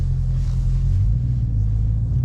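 A Dodge Charger Daytona with the 5.7L V8 and a Flowmaster American Outlaw exhaust holds a steady, deep idle-like rumble, loud and continuous with no talking.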